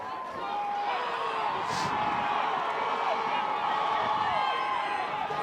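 Student section crowd at a Schaumburg vs Conant high school football game, a steady, fairly distant roar of cheering and shouting voices, sustained with no break.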